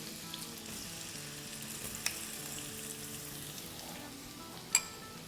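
Three tablespoons of chopped garlic in large pieces fry in butter over a high flame for butter garlic rice, a steady close sizzle with a faint metallic clink near the end.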